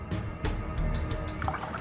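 Water from a bottle splashes and drips into a drink in short bursts, close up and fairly quiet, with a steady low background hum.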